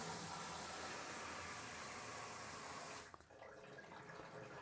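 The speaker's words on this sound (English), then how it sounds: "So let's go ahead and plug our sump pump in. Boom, you hear it running." A sump pump runs with a loud, even rushing-water hiss that stops abruptly after about three seconds, leaving a quieter, fainter flow.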